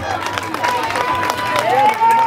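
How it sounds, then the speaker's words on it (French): Outdoor crowd at a football festival in Benin applauding the winning team, Oris FC de Comé, with scattered claps, cheers and babble under a loud announcer's voice and a whistling tone. "On applaudit à l'instant à l'équipe gagnante."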